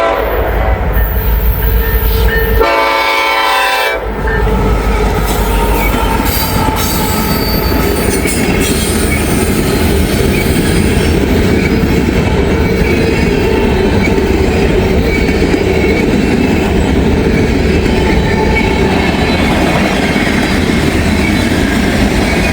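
A long freight train rumbles steadily past up close, loud and continuous, with wheel squeal and rattling cars throughout.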